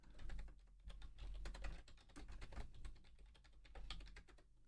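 Steady keystrokes on a computer keyboard as a new description and deployment location are typed in, quick irregular clicks close by and fairly quiet, with no voice.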